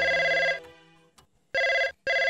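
A telephone rings in short electronic bursts, three close, loud trilling rings broken by brief gaps, with no talking over them.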